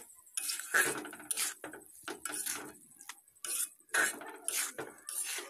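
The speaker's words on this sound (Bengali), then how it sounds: "ইলিশ মাছের মাথাটা দেওয়ার পর আবার আমি ভালো করে কষাতে থাকবো।" Hilsa fish head is stirred and sautéed in a cooking pan, with a spatula scraping and clinking against the metal in irregular bursts, close by and with no talking.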